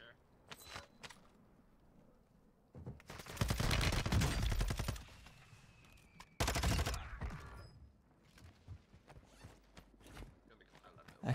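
A Sakin MG38 light machine gun in Warzone fires two long rapid bursts, loud and close, separated by quieter gaps of game sounds, clinks and faint voices.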